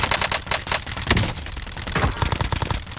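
Rapid bursts of Uzi submachine gun fire in the Call of Duty Warzone video game, loud and continuous with dense repeating shots and no talking.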